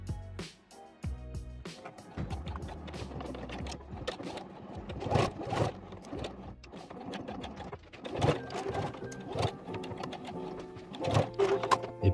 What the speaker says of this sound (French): je vais pouvoir venir piquer ici pour retenir mes élastiques